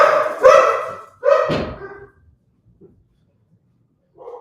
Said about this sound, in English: they were just barking at the fucking pool boy